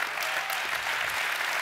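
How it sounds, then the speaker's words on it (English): Sustained audience applause for young chefs at an award ceremony, a dense, even wash of many hands clapping at steady volume throughout, with no voices standing out. "can we have a huge round of applause for all of the young chefs"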